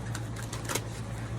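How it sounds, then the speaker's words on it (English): Tarot cards being shuffled, a quick run of dry, papery riffling clicks over a low steady hum, up close and brief. "So let's give these cards a shuffle."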